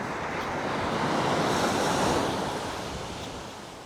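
Ocean waves crashing on a shore, a broad roaring wash of surf that builds and slowly recedes, with wind buffeting the microphone throughout.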